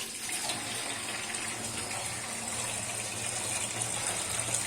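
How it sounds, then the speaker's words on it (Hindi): Large pieces of rohu fish are washed under running water in an outdoor Pakistani village kitchen, a steady close splashing and gushing flow with no talk. "धो लेते हैं मछली।"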